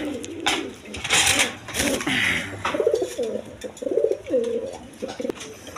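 A pair of Kalpit pigeons gives repeated throaty coos, each a bubbling rise and fall, close by and steady, after a few scuffling noises at the start.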